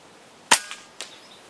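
A single sharp EDgun Matador R5 air rifle shot cracks out loud and close, followed by a couple of faint metallic echoes or pellet impacts.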